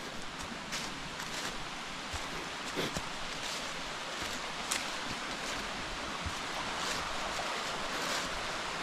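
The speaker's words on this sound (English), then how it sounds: "There is a waterfall at this canyon." A waterfall cascades over rock in Clifty Canyon in Alabama's Sipsey Wilderness, producing a steady, even rush of falling water at moderate distance, with no talking over it.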